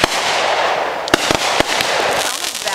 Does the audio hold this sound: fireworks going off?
yes